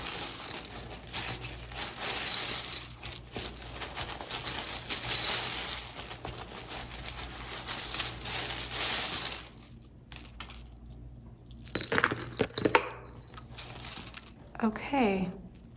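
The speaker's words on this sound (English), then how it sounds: "Let's give the charms a nice shuffle." Small metal tarot charms clink and rattle while being shuffled in a box, a busy jangling that stops abruptly, followed by a few scattered clinks and brief rustles.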